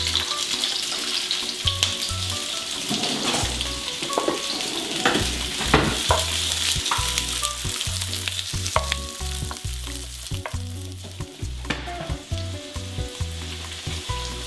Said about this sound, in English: While onions are frying, you can go ahead slice your chili if you're gonna add chili.